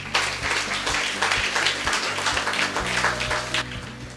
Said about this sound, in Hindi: तो एक बार जोरदार तालियां इस कंपनी के लिए